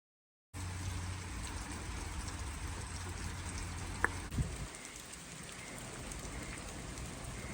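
Steady rain falling at night near a forest cottage, an even close hiss of drops that starts abruptly after a moment of silence, with a faint knock midway and no talk.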